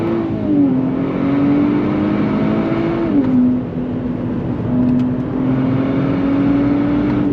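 A 2025 Nissan Z Sport engine revs hard under throttle, pitch climbing, dropping briefly at a gear shift, then rising again, loud and close.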